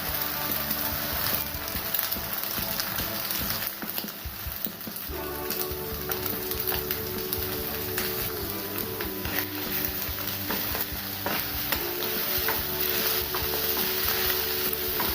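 Beaten eggs poured over sizzling vegetables in a hot pan for egg fried rice, a dense continuous sizzle and crackle with faint scraping, steady and close throughout.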